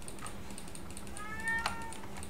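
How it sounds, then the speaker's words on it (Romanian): A house cat meows once, a rising and falling call heard close by over a steady hum, with computer keyboard typing in the background. "Mă stresează pisica asta că pot să o închid în bucătărie."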